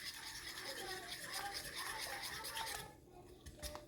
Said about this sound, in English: you can grab a fork, and you want to whisk up your eggs in the middle of your pile